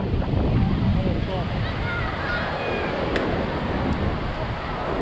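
Rough sea at Praia Grande beach in Arraial do Cabo, Rio de Janeiro, with strong wind: a steady, dense roar of surf and gusting wind buffeting the microphone throughout, with no clear pauses.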